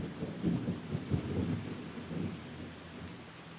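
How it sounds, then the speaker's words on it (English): A thunderstorm with rain, low rolling thunder rumbling steadily under a constant hiss of rainfall, loud at first and then easing off. "I sought shelter from the storm that drove me out of Abbott, Texas"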